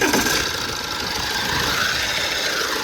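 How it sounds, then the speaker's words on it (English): An Alfa Romeo Giulietta engine running with a faulty turbo gives a dense, steady mechanical roar with a hissy whine on top, loud and close throughout, with no voices. "If I turn the engine on, have a little listen."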